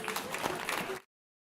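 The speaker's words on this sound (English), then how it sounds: "Give yourselves a round of applause." Brief burst of audience applause at a food and agriculture policy summit, a roomful of clapping heard for about a second before cutting off abruptly into silence.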